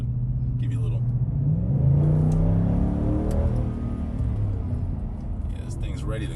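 A 2021 Roush F-150 truck in sport mode gives a deep engine rumble that swells as it revs and settles back, heard from inside the cab with brief talk at the start and end.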